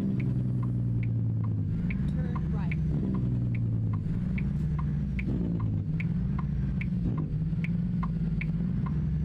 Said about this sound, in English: That is a very nice sounding Jake brake.